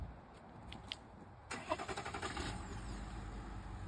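The diesel engine of a 2024 Chevy Tahoe cranks and fires with a quick stuttering burst, then settles into a steady, clattering idle heard fairly close with no talking.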